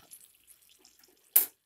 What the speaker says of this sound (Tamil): ஆல்ரெடி வேக வச்சு வச்சுருக்கேன் இந்த பீட்ரூட் தண்ணியை இதில் நம்ம சேர்த்துக்கலாம்